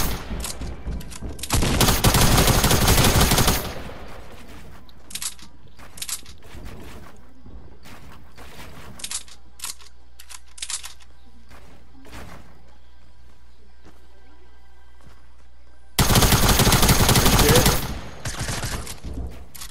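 Two loud bursts of rapid video game gunfire stand out against quieter stretches of clicks and small in-game noises.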